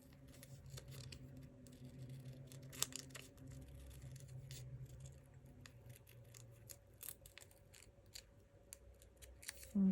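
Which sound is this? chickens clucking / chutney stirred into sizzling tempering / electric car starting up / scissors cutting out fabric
scissors cutting out fabric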